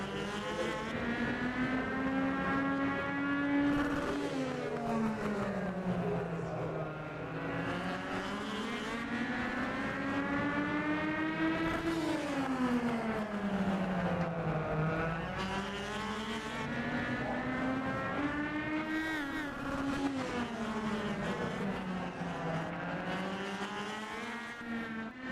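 Race cars circle the Atlanta Legends oval in a sustained, close engine drone whose pitch rises and falls lap after lap as the pack accelerates and lifts through the turns.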